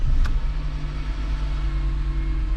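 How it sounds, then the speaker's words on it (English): A Mercedes C200 W203 car engine running after starting, a steady low idle rumble with a brief click at the start, close and continuous. "I have to start the car."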